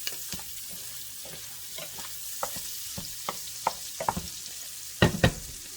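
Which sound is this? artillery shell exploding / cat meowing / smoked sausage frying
smoked sausage frying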